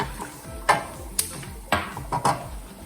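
Peanuts and cloves frying in a pan for upma, a soft continuous sizzle broken by a few sharp clicks and taps of stirring against the pan.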